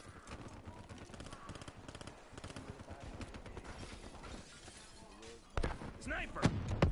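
Rapid gunfire in a multiplayer shooter game rattles in dense, steady bursts throughout, with heavier, louder shots near the end, over constant game clutter and faint shouting.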